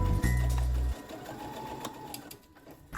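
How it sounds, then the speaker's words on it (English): A sewing machine stitches around the curved raw edge of a shirt collar, a loud steady mechanical whir for almost a second, then stops, leaving quieter handling noise. "now I sew around the curve, along the raw edge, and down the other side of the curve"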